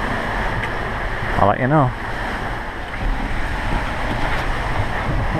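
Rough sea and gusting wind around a sailing boat under way in the Caribbean: a continuous rushing roar of waves and wind noise, with one short spoken phrase partway through.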